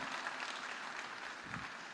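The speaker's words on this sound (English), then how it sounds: "Can we put a round of applause for all the women and the female in data?" Applause from a conference audience in a large main hall fills the whole stretch, a dense, steady clatter of many hands clapping with no pauses.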